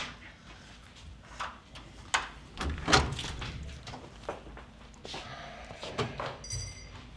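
A door being handled and opened, with several clunks, rattles and knocks of the latch and frame scattered over a few seconds, fairly close.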